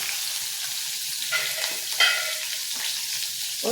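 Cumin, fenugreek seeds, asafoetida, curry leaves and green chili frying in hot oil for a sweetcorn chivda, a loud continuous sizzle with brief stirring scrapes and a few sharper crackling bursts.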